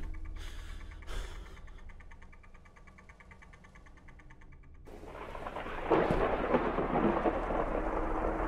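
Thunderstorm in the MADiSON horror game: two sharp thunder cracks near the start fade into a quiet rumble, then a heavy rush of rain and another rolling thunderclap swell loudly toward the end, with no voices.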